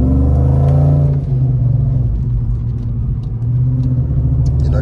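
A 2002 Ford Mustang GT V8 rumbles loud and close from inside the car, with a strong rev at the start easing into a deep, steady drone that swells again near the end.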